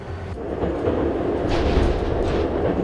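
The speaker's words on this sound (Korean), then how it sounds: "덜컹대는 소리에도 아직 잠이 덜 깬 듯한 열차 안" A Mugunghwa passenger train, now a slow local service out of Taehwagang Station, rattles along the tracks in a steady low rumble with clattering wheel noise, heard from inside the carriage, with no talking.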